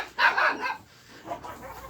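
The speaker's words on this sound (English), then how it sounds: "I can't handle that shrill bark like that first thing in the morning" A small dog gives a couple of shrill, sharp barks in quick succession, close and loud, then a softer yip after a short pause.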